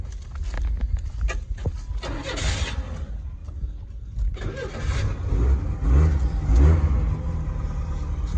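A 1996 Chevy S10 pickup's engine cranks and fires up, then settles into a rough, close idle with a couple of throttle blips.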